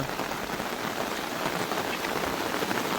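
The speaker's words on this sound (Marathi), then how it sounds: "आता जोरदार सुरुवात झाली पुन्हा एकदा जोर धरलेला आहे पावसाने" Heavy monsoon rain in the Konkan region hisses down in a dense, unbroken wash of drops, steady and close, with nothing else audible.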